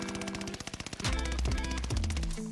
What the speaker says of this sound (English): we're going to check out the Cooper Carbine with only hard scope attached in perk slot 1